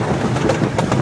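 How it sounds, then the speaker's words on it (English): Rumbling train ride through the woods at Knoebels amusement park, with a continuous loud rolling roar and faint periodic clacks of the rails, and no talking. "right now we're taking a train ride in the woods"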